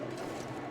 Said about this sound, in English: Just listen to those birds.